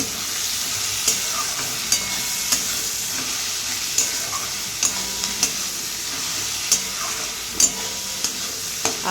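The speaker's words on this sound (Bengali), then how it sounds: "আর এখানে দেখো মাংসের পেঁয়াজ ভাজা চলছে" Onions fry for a meat curry in a steady, moderate sizzle, with regular sharp clicks of a spatula stirring against the pan throughout.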